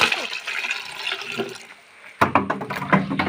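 Water from a pipe drains out of a fish tank into a bucket, first as a thin steady hiss, then after a short pause as a louder, splashing gurgle.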